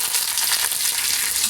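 Onions frying in hot oil for a tuna fish curry, a steady dense sizzle that fills the whole stretch without pause, close and fairly loud with no voices over it.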